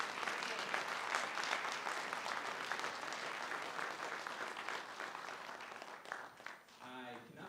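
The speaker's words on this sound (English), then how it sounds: "can you give another round of applause?" An audience at a high school holiday band concert claps in steady, moderately loud applause that holds evenly for several seconds before thinning out at the end.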